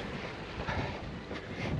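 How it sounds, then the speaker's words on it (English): Wind buffeting a microphone during an outdoor run, heading into a headwind, a steady loud broadband rush with gusts swelling near the middle and end, no voices. "It was hard running against the wind, as you can see from the video."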